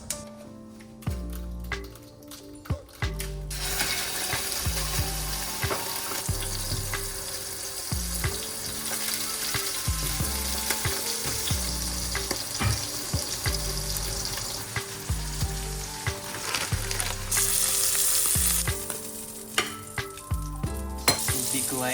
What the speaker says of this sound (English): I will simply be frying it and top it up with some cheese